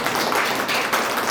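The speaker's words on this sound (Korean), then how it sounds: "박수로 하나님께 영광을 드립니다." A congregation at a Korean church service in Mexico applauds in one short, dense burst of clapping that stays steady throughout, with no voices over it.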